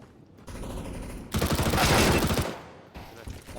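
Shotgun fire in CS:GO Danger Zone comes as a dense, loud burst of rapid shots lasting about a second, framed by quieter game noise before and after.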